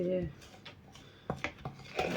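A spoon scrapes and clinks against a bowl while cocoa is stirred into a mix for homemade chocolate spread, giving a few short irregular taps and rubs close by.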